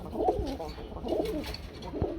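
A tumbler pigeon coos close by, three soft, low cooing calls spaced about a second apart with no voices around.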